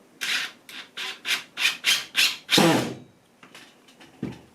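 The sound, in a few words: fourth screw being fitted with a washer on a devil stick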